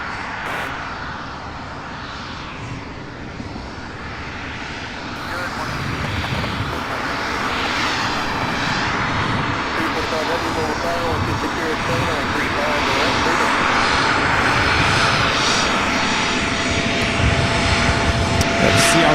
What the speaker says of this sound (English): I believe we have a C-130 coming in behind this MD-11, if I'm not mistaken.